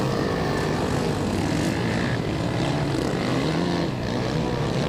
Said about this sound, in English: Paul Winrow on the Interlock Lone Star Honda machine